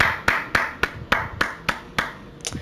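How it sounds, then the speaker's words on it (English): About eight slow, evenly spaced hand claps ring out close and crisp, a single person applauding with a steady rhythm and no talk over it. "Honestly, round of applause."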